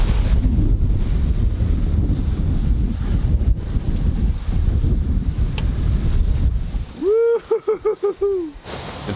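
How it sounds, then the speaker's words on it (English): Strong gusting wind roars over a sailboat on the open Pacific, loud and continuous with buffeting microphone noise, then a brief stretch of rhythmic creaking or whistling from the rigging as the boat shakes. "This is a lot of wind. Wow, it's ripping."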